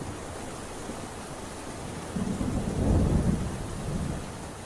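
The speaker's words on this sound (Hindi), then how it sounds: "इतनी तेज बारिश में तो ऐसे क्यों भीग रहा है?" Heavy rain pours down steadily while low thunder rumbles and swells midway, a storm scene in a Hindi-dubbed film with no voices over it.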